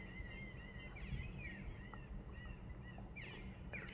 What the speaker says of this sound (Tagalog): Sarap pakinggan yung ng mga ibon.